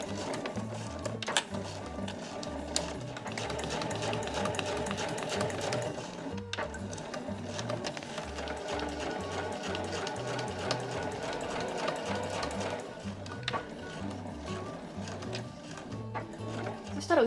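A sewing machine runs steadily, back-stitching the overlapping centre of a granny bag's inner lining, with a close, continuous mechanical whir and rhythmic needle clatter throughout.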